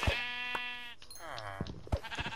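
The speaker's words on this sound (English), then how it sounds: "I found some sheep." Sheep in the video game Minecraft bleat in quick succession, several clear wavering cries close up, with no talk over them.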